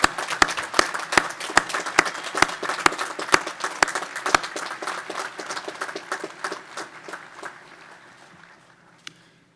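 A university commencement audience applauds retiring staff, a full crowd's sustained clapping with steady rhythmic beats standing out, gradually thinning and fading toward the end.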